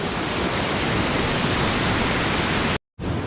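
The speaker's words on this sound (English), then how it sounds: "Look at that creek." Steady, dense rush of a creek flowing near Feather River in Plumas County, filling the whole clip at constant loudness, with a brief total dropout near the end before the water noise resumes; no talking.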